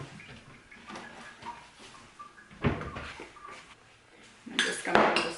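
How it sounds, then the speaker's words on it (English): Ripe tomatoes with salt are stirred in a bowl, giving a few quiet clinks and scrapes of utensil against dish, with louder clattering bursts toward the middle and end. "put about a quarter of a teaspoon of salt on there and give it a bit of a stir around"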